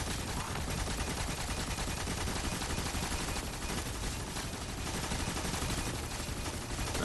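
Sustained rapid gunfire at a boss in Destiny 2, a dense unbroken barrage of shots over game background sound, steady and loud throughout.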